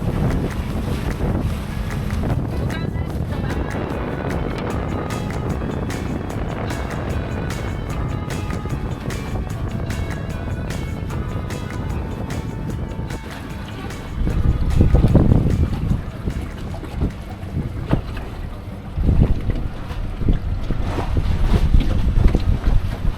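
A boat tender dinghy motors in toward the concrete public dinghy dock at Marigot Bay, its steady engine drone heavily buffeted by wind noise on the microphone, with louder gusty rumbles near the end.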